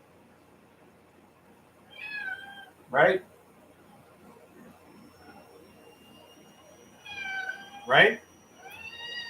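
A pair of cats trade rising meows in a home kitchen during a cooking session, the calls coming in two clusters with a man's short spoken remarks cutting in loudly between them.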